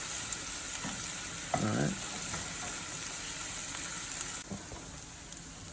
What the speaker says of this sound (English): mix it around with the onions and garlic, just so that the spices kind of toast up a little bit